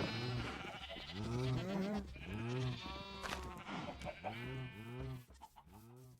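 Sheep in the video game Minecraft bleat repeatedly, a run of wavering, clear calls in close succession with short gaps, loud and alone with no talk.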